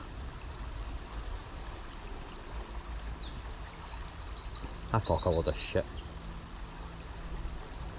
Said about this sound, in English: Even the birds are laughing at me.